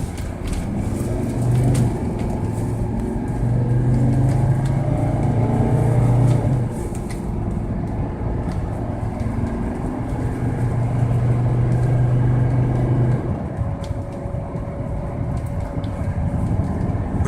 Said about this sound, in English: exactly how the transmission shifts through the gears